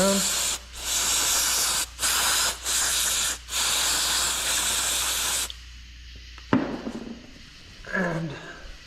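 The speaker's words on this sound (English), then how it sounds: "I'm just going to kind of spray everything down." Carburetor cleaner sprays onto an ATV carburetor in several loud bursts of hissing aerosol with short gaps between them, followed by quieter clicks and handling noises.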